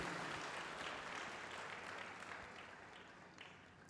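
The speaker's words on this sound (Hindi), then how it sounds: "आमीन बोलो और ताली बजाओ जोर से परमेश्वर के लिए" A church congregation applauding at a sermon, a dense, steady wash of many hands clapping at once that fades gradually over a few seconds, with no voices standing out.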